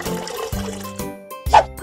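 Cartoonish bath water and bubble effects in a baby care game, with bright tinkling chimes and short liquid bloops in a quick, bouncy sequence of separate sounds.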